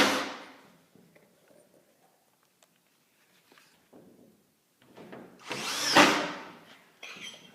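A power drill drives screws into a drywall sheet during a gypsum hanging job, with short scattered bursts early on and a louder, longer whirring run near the end. Faint handling noises fill the gaps.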